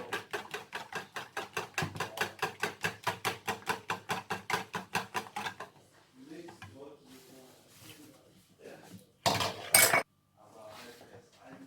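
Pancake batter with vegetables for a Pakistani-style recipe is whisked hard in a bowl, a rapid even run of close clinking strokes for about five seconds, followed by quieter handling sounds and a brief loud clatter.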